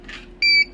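A short electronic beep sounds once, shrill and steady, from a Birch receipt printer with an error, after a faint soft rustle in an otherwise quiet room.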